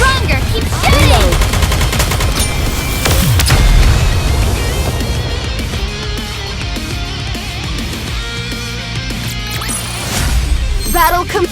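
Battle in the Goddess of Victory: Nikke video game, with loud gunfire and explosive booms crashing over a music bed, heaviest early and again near the end.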